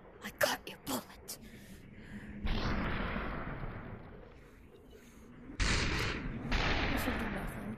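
Enemy gunfire in the VR game Superhot, sharp close bangs at the start followed by longer noisy bursts of shots and impacts that rise and fade, loud over a quiet room.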